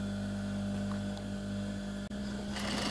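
A sewing machine runs steadily, stitching a gathered sleeve, with a loud continuous motor hum that stops briefly near the end and then resumes.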